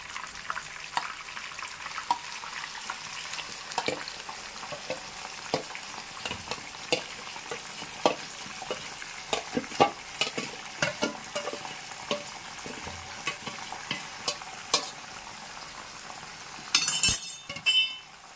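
Chicken pieces tip into a pan of well-fried spices and are stirred slowly for a green chicken curry; steady close sizzling runs throughout with frequent spatula scrapes and light metallic clinks, growing busier near the end.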